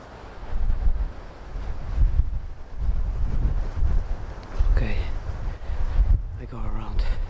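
Gusty wind buffets the microphone in rumbling, uneven bursts, and a voice speaks briefly toward the end.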